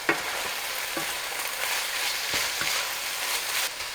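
Ground pork with dark soy sauce sizzles steadily in a hot pan for a zucchini stir fry, a constant crackling hiss broken by a few soft scrapes and clicks of stirring.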